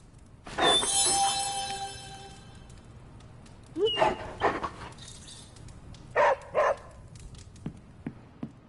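A dog barks in the video game Midnight Suns, a few sharp barks and yips close by in bursts around a longer whining tone, with pauses between them.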